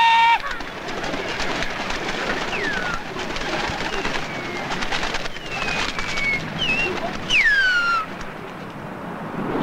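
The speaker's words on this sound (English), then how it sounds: "I used to stay on the roof with the birds." Pigeons cooing around a rooftop coop, several soft coos and rising bird calls over a constant outdoor background hiss, with faint distant voices.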